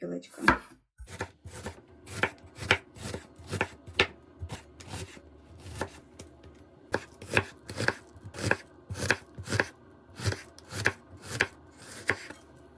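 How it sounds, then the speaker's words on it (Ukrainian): A knife chops through an onion on a cutting board, the single opening cut followed by a steady run of about twenty crisp, evenly spaced strikes, close and clear with no talking. "Для начинки мені потрібна цибуля розрізати навпіл і на пів"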